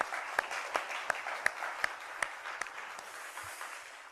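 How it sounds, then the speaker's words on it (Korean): Applause from a church congregation during a Sunday service: a steady wash of many hands clapping at moderate volume, with a few sharper individual claps standing out, and no talking over it. "감사합니다. 다시 한번 박수로."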